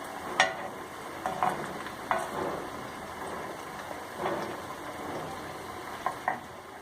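Leftover rice kebabs fry in hot oil in a pan with a steady sizzle, broken by a few sharp crackles and scraping stirs as they turn golden brown.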